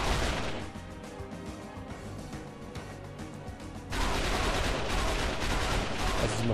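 M60 machine gun fire in the XIII shooter game: dense, continuous rattling bursts that grow louder and harsher partway through, filling the whole clip.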